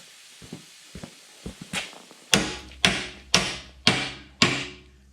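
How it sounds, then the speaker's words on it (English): A hammer strikes metal during a plow build: a few light, scattered taps, then five loud, ringing blows at a steady, even rhythm, each fading quickly. "A little schmacky smack with a hammer."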